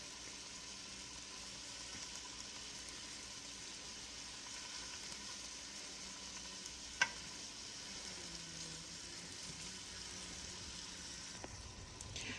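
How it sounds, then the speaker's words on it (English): Sausage meatballs fry quietly in a pan as a faint, steady sizzle with a brief clink of utensils partway through, no talk. "while our little sausage balls are cooking"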